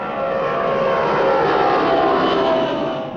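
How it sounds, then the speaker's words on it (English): Model plane in flight, a steady loud droning engine hum holding close and even throughout with no breaks. "When you fly your kite or model plane, remember you're in charge of a flying machine."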